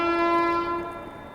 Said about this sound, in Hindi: हॉन्गिंग सुन रहे हो, पीछे से आ रही है आनंद विहार से चलकर हटिया की और जाने वाली झारखंड स्वर्ण